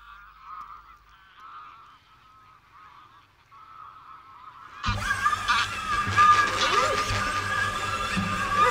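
Geese honk repeatedly at Villafáfila, faint and distant at first, then a loud, dense chorus of honking breaks out from a large nearby flock.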